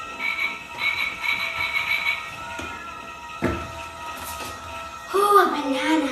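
A frog croaks in short, repeated calls close by, with a few sharp clunks in between and a louder, warbling burst of croaks near the end.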